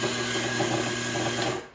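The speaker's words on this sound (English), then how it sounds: "I wanna grind a little bit just to get some of the beans going through the grinder" An Azkoyen brewer's coffee bean grinder running on beans, a steady close mechanical whir with a constant motor hum that cuts off at the end.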